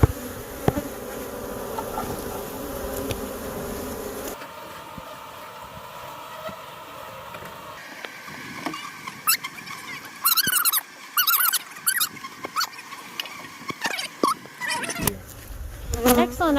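Killer bees buzz loudly around an old hive with dark comb, a dense steady drone close by, with individual bees whining past in shifting pitches and some handling noise, no talking heard.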